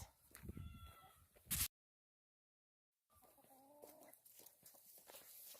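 Chickens cluck and call softly outdoors, broken by a brief silent gap, then more scattered clucking and rustling.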